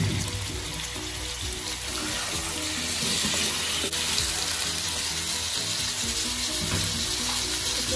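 Mutton sizzling in a karahi pan with onions, a dense, steady hiss of frying close by, continuous and fairly even throughout without any talking.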